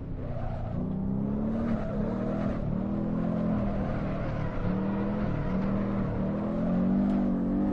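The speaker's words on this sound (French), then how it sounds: "à la sonorité, j'ai pas l'impression de conduire une Porsche" A Porsche in Assetto Corsa drifts with its engine droning and wavering in pitch as the throttle is worked, loud and continuous, with tire noise underneath.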